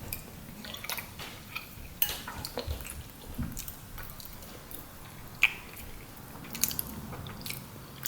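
Someone eats Southern baby lima beans with ham hocks from a spoon, giving soft, wet chewing and small clinks and slurps at an irregular pace, close up and fairly quiet, with no talking.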